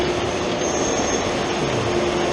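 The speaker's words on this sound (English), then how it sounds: "We've got another tram coming in at eye level" A tram pulling into Piccadilly station, a steady close rail rumble with a thin metallic squeal running through it, no talking.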